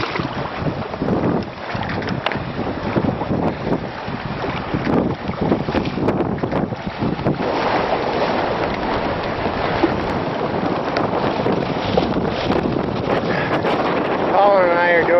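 Sailboat beating under sail in about 16 knots of wind down Lewis Channel, moving around 6.5 to 7 knots, with steady loud wind rush and water noise throughout, and a voice talking over it.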